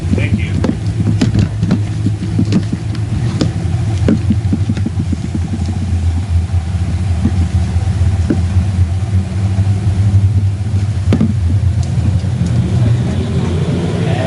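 Stock cars roar around a speedway after a restart, a continuous loud engine drone with passing surges and wind buffeting, while an announcer talks over the racing.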